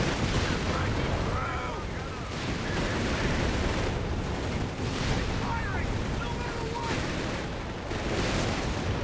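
A landmine detonates during a 4v4 Company of Heroes 3 match, a heavy blast lost within a continuous din of artillery, gunshots and explosions that rumbles steadily throughout.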